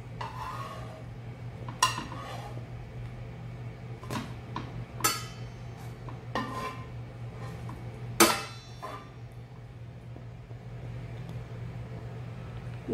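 French cheese toast being turned in a pan: scattered metallic scrapes and clinks of a spatula against the pan over a steady low hum, with no talking.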